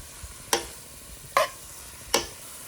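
Cabbage palya with coconut and coriander stirred in a pan, three distinct scraping strokes spaced about a second apart over a faint, quiet background, with no talking.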